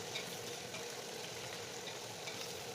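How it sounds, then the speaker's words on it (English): Chicken pieces fry with onions and spices in a pan for Swahili pilau, giving a steady, dense sizzle that crackles without pause, close up and with no talking. "So now I will continue frying my chicken here"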